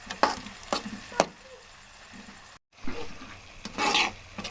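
Semolina roasting in ghee in a pan, stirred with sharp scraping strokes that come in uneven bursts over a soft frying hiss, close and fairly loud with no talking.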